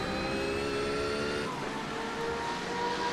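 GT3 car in a sim racing championship at the Nürburgring, engine braking with a high gearbox whine; the engine note drops sharply midway as it slows, then drones on steadily, close and loud with no voices.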